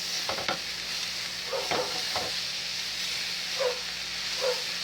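Pepper steak and vegetables sizzle in a frying pan, a steady soft hiss broken by a few scraping stirs and tosses, with no talk.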